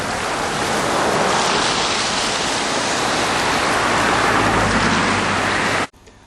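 Murphy's Ditch flows into Lake Washington with a loud, steady rush of water, a continuous broadband roar close by that cuts off abruptly near the end.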